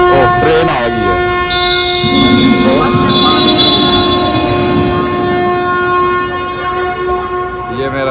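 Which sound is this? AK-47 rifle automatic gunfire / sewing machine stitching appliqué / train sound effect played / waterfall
train sound effect played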